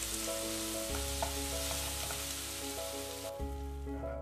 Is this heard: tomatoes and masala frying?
yes